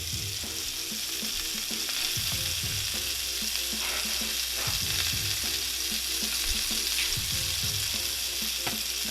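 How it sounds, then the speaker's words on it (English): Bacon fries noisily in a pan, a loud, continuous crackle and spatter with occasional pops and knocks, close up and with no one talking. "Bacon is cooking beautifully. It's still shooting at us, y'all."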